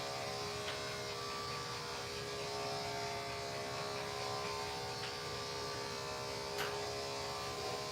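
Electric clippers buzzing steadily and close while shaving matted fur off a Maltese dog during grooming, a continuous droning hum with slight changes as the blade works through the coat.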